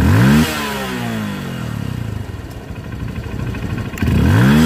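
Honda CRF motorcycle engine fitted with a Juken 5 carburetor, revved sharply at the start and end with an uneven idle burbling in between, loud and close, no talk.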